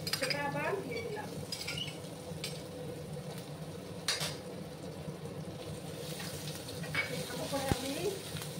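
Grated ginger and chopped garlic fry in a pan with whole cumin, a soft continuous sizzle broken by spatula scrapes and clinks against the pan, fairly quiet and close.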